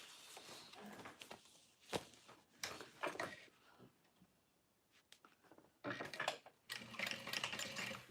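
A sewing machine stitching fabric, a single stitch line followed by basting along the sides, heard as bursts of rapid mechanical whirring and clatter separated by quiet pauses, fairly faint and close.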